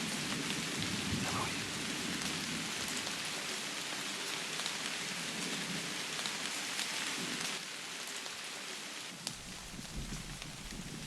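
Morning rain falling in a Pyrenees forest, a continuous soft patter and hiss of drops on foliage and ground, steady and moderately close throughout.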